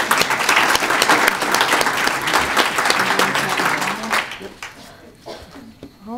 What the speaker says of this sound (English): Just a big round of applause for our mentors.